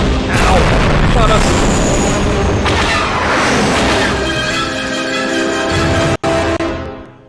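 Starship taking hits during combat in the Star Wars: Knights of the Old Republic II video game, a loud sustained rumble of booming impacts and roaring engine noise that fades into a ringing tone before cutting off.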